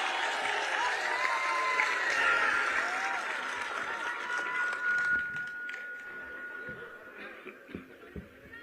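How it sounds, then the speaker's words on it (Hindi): A large crowd applauds at a public rally for Maharaja Suheldev Rajbhar's birth anniversary celebration: sustained, dense clapping with some crowd noise that slowly thins toward the end. "जोरदार ताली।"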